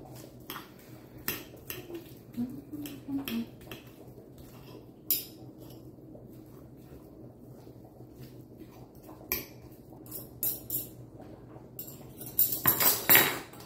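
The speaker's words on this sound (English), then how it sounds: "I like to just use 2 forks to get this shredded" Two forks shred cooked meat from an Instant Pot for soup, giving sparse light metallic clinks and scrapes against a dish, with a quicker cluster of clatters at the end, over quiet room tone.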